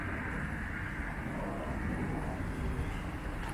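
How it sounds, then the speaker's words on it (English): Steady broad roar of a large airplane climbing out overhead, a continuous loud rumble with low-end weight that holds evenly throughout, heard outdoors on a walk near the flight path. "A big plane taking off up there."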